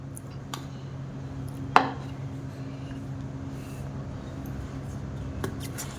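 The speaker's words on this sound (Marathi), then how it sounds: "सर्व शिमला मिरची मी अशा प्रकारे कट करून घेत आहे।" A knife cutting capsicum (bell pepper) on a board, a few sparse, quiet taps and one sharper chop standing out against a low steady hum.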